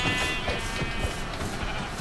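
Sheep bleat in Minecraft on the Nintendo Switch, giving short wavering bleats over a busy game background. They sound near and moderately loud, with no speech.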